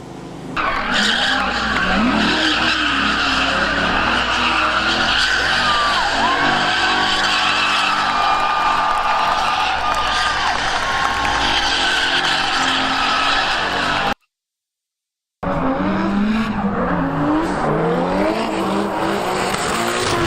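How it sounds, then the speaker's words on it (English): A car drifts in a racing game, its engine droning and revving continuously while tires screech and skid loudly, broken by a short silent gap before the squealing and engine resume. "Let's go drift."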